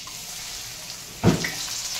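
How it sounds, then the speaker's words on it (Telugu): Corn pieces coated in batter dropped into hot oil, with a steady low sizzle and a brief louder hiss and splash as they go in. "వీటిని ఇప్పుడు ఈ వేడి నూనెలో వేసి మనం ఫ్రై చేసేసుకోవాలి."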